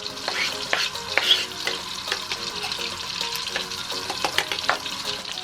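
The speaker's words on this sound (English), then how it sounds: "I'm going to add the garlic and the onion first and cook that a little until the onion turns translucent." Garlic sizzles in melted butter over medium heat while being stirred for a tuna casserole: a continuous bright frying hiss with repeated soft scrapes of the spoon, close up and with no voices.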